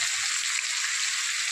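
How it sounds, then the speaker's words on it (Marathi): Tomato and a spoonful of salt frying in a pan, a steady, close hiss of sizzling oil with faint crackles throughout and no talking. "आता टाकत आहे 1 टमाटा. आता टाकत आहे 1 चमच मीठ टमाटा विरघळण्यासाठी."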